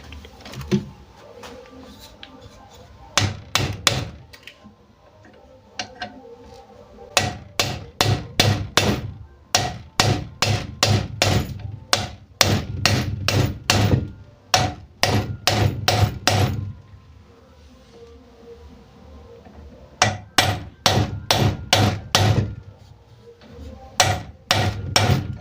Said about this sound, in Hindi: यहाँ पे ऐसे बोल्ट रखिए और इसको हथौड़ी से मार के इसको अंदर ठोक देना है।